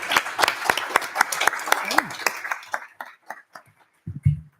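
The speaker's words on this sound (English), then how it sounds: "if everyone would just join me in a round of applause for the hardest working board of education" A school board of education meeting audience breaks into scattered applause, a dozen or so sharp claps that thin out and fade, with a few words spoken over the end.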